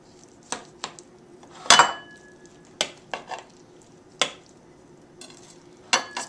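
Knife and spoon clinking on a plate while cutting into and serving an upside-down eggplant dish, a series of sharp separate clicks and scrapes with quiet gaps between, close and fairly soft, no talking.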